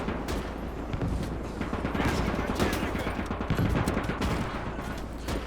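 Dense gunfire in a battle from the video game Gates of Hell, at a Mannerheim Line assault on a ridgeline: continuous rifle and machine-gun fusillades with booming explosions, loud and sustained throughout.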